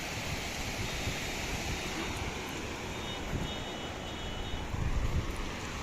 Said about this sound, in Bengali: দীঘাতে ঢেউ অনেক কম যা ঢেউ আছে তাতে জল শুধু এসে আমাদের পা ধুয়ে দিয়ে চলে যাচ্ছে